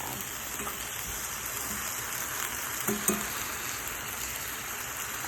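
Bulgogi meat sizzles in a hot pan with a steady, close, even hiss. A couple of faint clicks stand out briefly, and no one speaks.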